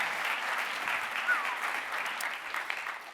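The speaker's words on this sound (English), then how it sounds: "Anyway, everyone, big round of applause for Shaun." Audience applause at a presentation, a steady, dense clatter of many hands clapping continuously throughout.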